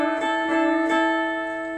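A guitar string on the third string is bent upward four times in a row, each bend a clear swelling pitch rise over a steady ringing tone, played alone with no talking.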